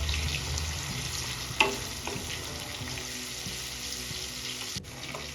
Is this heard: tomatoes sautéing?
yes